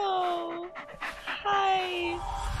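A dog pants in quick, close breaths, with faint whimpering tones running through the sound.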